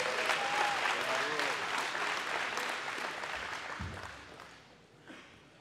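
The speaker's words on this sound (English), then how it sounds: "Can we give another round of applause for Mr." Audience applause at an evening awards and speakers event, a loud sustained clapping that slowly fades toward the end, with a brief voice near the start.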